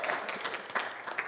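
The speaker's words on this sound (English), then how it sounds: "Give the Lord another hand clap of praise." A church congregation claps in praise of the Lord during a Sunday morning service, a brief burst of hand claps with a few sharper accents rising from a steady patter.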